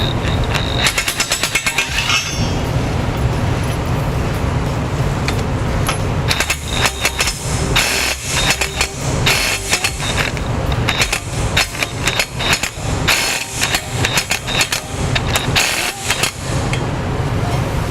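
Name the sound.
tightening trailer hitch bolts on a 2013 Ford Explorer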